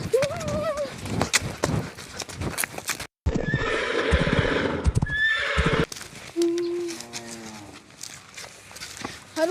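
A horse whinnies loudly several times while hooves clop steadily nearby, with brief gaps and a lower animal call near the end.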